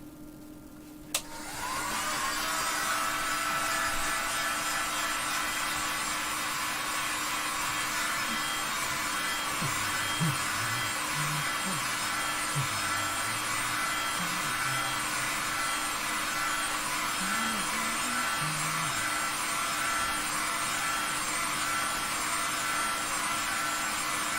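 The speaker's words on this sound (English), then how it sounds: "it's a good idea to preheat the board with, you can use a heat gun" Heat gun preheating the circuit board of a Rockford Power T800 car amplifier during a repair, starting with a click and then blowing with a steady, loud, continuous whoosh that lasts for over twenty seconds.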